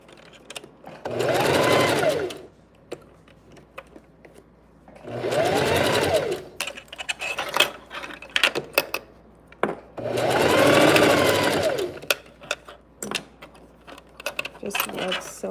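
A sewing machine stitches a dress neckline in three distinct runs of a couple of seconds each, steady and close, separated by quieter pauses with faint handling noises.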